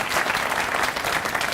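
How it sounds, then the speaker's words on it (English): A school crowd gives a warm round of applause for a principal, dense and continuous clapping that stays loud and even throughout. "give Bill a round of applause,"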